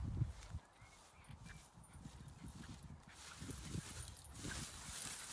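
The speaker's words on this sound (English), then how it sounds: "I took my dog Harry out for a walk." A dog out on a walk, with low, soft scuffling and pattering sounds close by, faint and irregular over a quiet outdoor background, with no talking.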